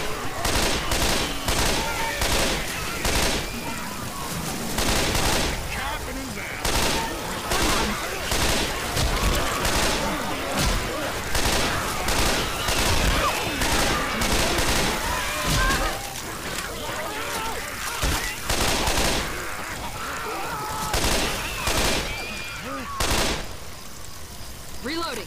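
Dense, sustained gunfire from Left 4 Dead 2 on the custom map Yama, with rapid bursts of shots firing almost without pause, loud and close, while players talk over it.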